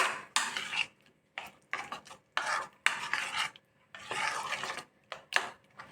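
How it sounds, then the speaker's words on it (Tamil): Curd, salt and idli being stirred together in a bowl, heard as repeated rasping, scraping strokes of a spoon in short bursts with brief pauses between them, close and clear with no talking. "இதை சேர்த்துட்டு கொஞ்சம் நல்லா மிக்ஸ் பண்ணிக்கலாம்."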